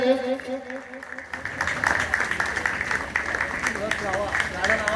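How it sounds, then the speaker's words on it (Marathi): An audience at a Phule-Bhim Jayanti festival celebration applauds as a guest comes on stage; a voice is briefly heard before sustained, fairly loud clapping with crowd noise takes over. "सर्वांनी जोरात टाळ्या झाल्या पाहिजे, जोरदार टाळ्या झाल्या पाहिजे"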